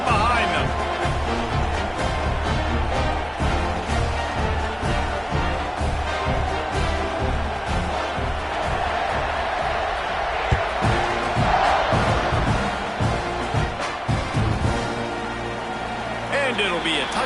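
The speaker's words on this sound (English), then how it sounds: "this crowd now ready to get behind them" Stadium crowd in a Madden football video game roars steadily at kickoff, a dense continuous wall of cheering and shouting that stays loud throughout, with a play-by-play voice talking over it.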